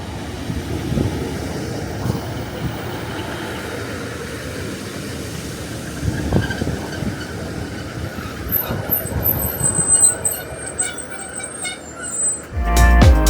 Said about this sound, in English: Class 156 diesel multiple units are shuttling up and down between Prestwick Town and Ayr Station